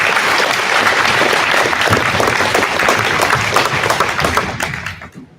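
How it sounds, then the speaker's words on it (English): An audience claps in sustained, dense applause through the gathering, then it fades out quickly at the end. "One more round of applause."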